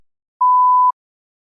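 A single clean electronic test beep, a steady mid-pitched tone lasting about half a second, alone in silence.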